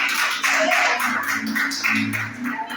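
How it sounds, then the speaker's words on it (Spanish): A church congregation applauds, a dense, steady wash of many hands clapping close by for a few seconds with no pause. "debemos decir un aplauso para la hermana"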